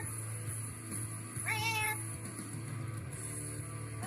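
A single short meow from a cat, rising and then falling, heard indoors over a steady low electrical hum, fairly close and clear, with no talking.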